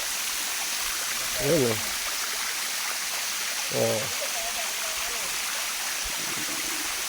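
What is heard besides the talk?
Yaganak waterfall stream flowing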